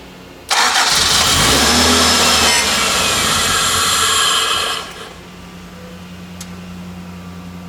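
Toyota AE86 engine firing up: a loud, close burst of cranking and catching that roars for about four seconds, then settles into a quieter, steady idle.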